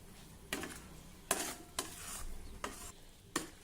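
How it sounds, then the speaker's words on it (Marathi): A sweet milk-powder and sugar mixture is stirred continuously in a pan over low heat, with a soft background sizzle and five distinct scraping strokes of a spoon against the pan at uneven intervals. "आता मंद आचेवर वडीचं मिश्रण आपल्याला सतत परतत राहायचं आहे"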